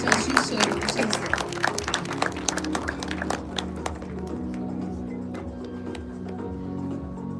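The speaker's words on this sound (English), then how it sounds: "A big round of applause for Mr." An audience at a TCS Technology Day event gives a guest a round of applause, crisp clapping strongest at first and thinning toward the end under faint room noise.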